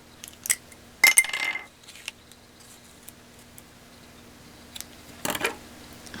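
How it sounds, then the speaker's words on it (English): Scissors snip card stock close up in a few short, crisp bursts separated by quiet pauses, with light handling sounds and no talking. "Grab my scissors."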